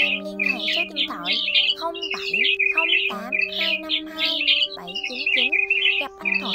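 A recorded lure call of the white-headed migratory starling plays continuously, dense chattering chirps and squeaky whistles stacked over steady tonal hums, loud and close throughout.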